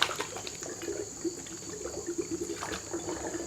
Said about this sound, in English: The tornado is going, the water tornado. And now it's going into the other bottle.